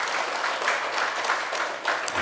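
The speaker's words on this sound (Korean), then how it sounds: "우리 아이들에게 다시 한번 격려의 박수 한번 보내주십시다" A church congregation at a Sunday morning worship service applauds the children, a steady, fairly loud wash of many hands clapping that holds evenly throughout, with no talk over it.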